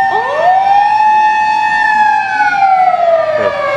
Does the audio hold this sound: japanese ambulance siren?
yes